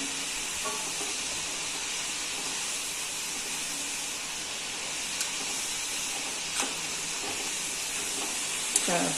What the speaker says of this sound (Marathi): नंतर तळतीय जरा तांबूस होईपर्यंत आपण ह्याला भाजणार आहोत नाहीतर कच्च राहतं ते